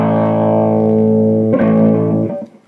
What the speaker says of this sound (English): Then it's got an overdrive built in